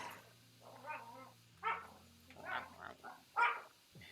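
Several dogs bark and yip in short bursts, with whiny, cat-like vocalizing between them, fairly close and alone over a low steady hum.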